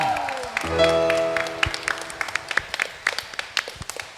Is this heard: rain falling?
no